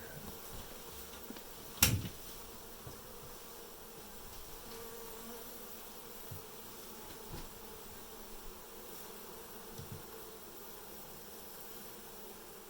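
Honey bees hum during a hive cutout, a faint, steady buzzing in the background with a sharp knock near the start and a few small clicks scattered through.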